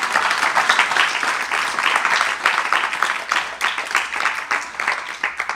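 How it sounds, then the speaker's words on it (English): An audience clapping during a talk at an ISKCON temple in Seattle, with dense, sustained applause from many hands, near and fairly loud throughout, with no talk over it. "You're clapping."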